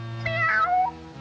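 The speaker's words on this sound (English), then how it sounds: "I'm that hungry little kitty cat you just read about." A cartoon cat from a 1941 classic animated short meows in one drawn-out, wavering cry, close and fairly loud, with a soft musical tone under it and no talking.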